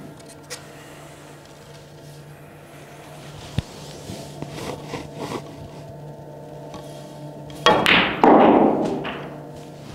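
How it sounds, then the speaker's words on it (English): A snooker cue strikes the cue ball for a stun follow shot during a coaching session. One short, sharp click sounds near the middle, and a louder burst of rolling and knocking follows near the end in a quiet room. "So the last shot, I will play stump follow shot and leave around the black ball area over there"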